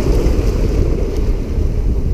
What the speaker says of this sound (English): Because of the goddamn waves.